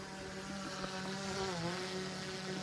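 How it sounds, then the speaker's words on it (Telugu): A steady high-pitched buzzing whine of a drone hovering nearby, its pitch wavering slightly, with no voices. "డ్రోన్ ఇప్పుడే ఎగరేసినాము."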